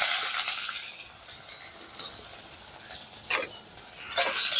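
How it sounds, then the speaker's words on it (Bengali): Chopped onions crackle and sizzle in hot oil in a wok, with scattered bursts of spattering and stirring over a quiet background and no talking. "তেল গরম হয়ে গেছে, দিয়ে দিচ্ছি পেঁয়াজ কুচি।"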